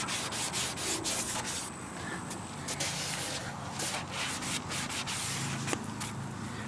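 The abrasive side of a scrubbing sponge rubs continuously against a grimy 1997 JVC television, giving a close, steady scratchy scouring with brief pauses and no talking.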